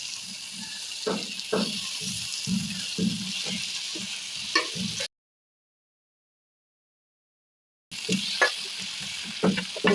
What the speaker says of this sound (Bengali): এখন আমি ঢাকনা উঠে দেখব কি অবস্থা হয়েছে। নেড়ে দেব।